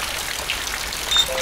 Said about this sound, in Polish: Deszcz. Nie mogę zmoknąć.